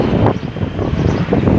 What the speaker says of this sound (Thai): โอ้ฝนตกแรง